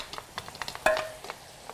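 Scallion-braised fish is tossed in a wok, producing a short series of soft scrapes and light sizzling taps with one sharper clatter midway, close and quiet with no talking.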